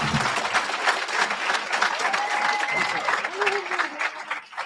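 Audience applause at a graduation ceremony, dense sustained clapping filling the room for several seconds, with voices calling out over it.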